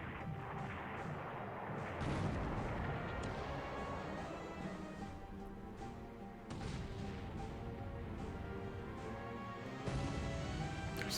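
Heavy cruiser guns fire and shells explode in the naval wargame War in the Pacific: dense, rumbling booms and crashes with sharp bursts near two, six-and-a-half and ten seconds, with no one talking.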